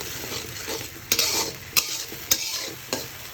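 A masala of spice paste with turmeric and salt sizzles in a pan while a utensil stirs it. Four sharp, close scraping strokes cut through the continuous frying hiss.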